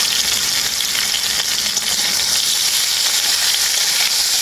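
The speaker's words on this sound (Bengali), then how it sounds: "আদাটা আমি খুব ভালো করে ভেজে নিয়েছি" Ginger paste frying in hot oil with potato, eggplant and drumstick pieces, a loud, steady, close-up sizzle with faint stirring scrapes and no talking.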